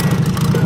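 A Farmall Super A tractor engine idles steadily at close range, with a low, even chugging pulse that holds without pause.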